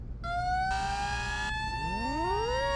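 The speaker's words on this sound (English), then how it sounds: "how's our siren sound?" Emergency vehicle siren in the Flashing Lights game, loud and close, a rising wailing tone joined by a brief harsh overlay, then a second pitch sweeping upward as another wail starts.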